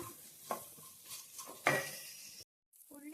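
A utensil scrapes and stirs tamarind and garlic in a hot pan with a faint sizzle, a few distinct clinks standing out before a brief cut to silence.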